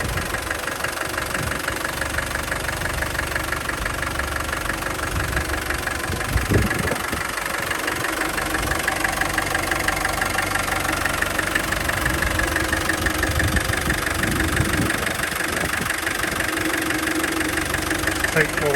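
A restored 1988 Land Rover 110 soft top Defender with a 200TDi diesel engine idles steadily, a close, even clattering rumble with light knocking that runs throughout and has a few brief bumps of handling noise.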